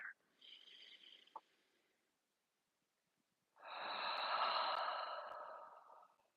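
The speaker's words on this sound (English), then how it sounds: "One more breath together." Slow, deep breathing during a gentle yoga class: a soft, airy inhale, a pause, then a longer and louder exhale, close and alone.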